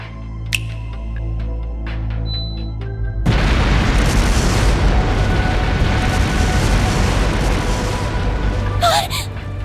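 Explosive artifacts detonating in a palace in Trails Through Daybreak, a quiet musical backdrop suddenly broken by a loud boom that swells into a sustained, roaring rumble of blasts, with a brief voiced gasp near the end.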